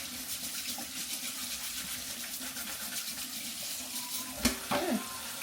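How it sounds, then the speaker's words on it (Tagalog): Harvested backyard carrots are rinsed under running tap water, a steady faint splash and hiss with a few louder handling knocks near the end. "So, hugasan na natin itong mga tira."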